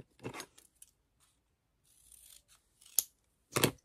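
Scissors snipping scrapbooking paper in a Halloween-themed craft session, heard as a few short, crisp cuts with quiet gaps between them and a light rustle of paper.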